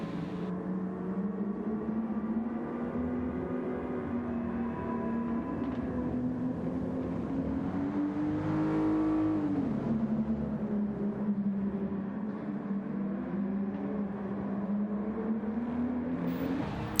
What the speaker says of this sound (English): We're in the passenger seat, and we are in the Audi Quattro.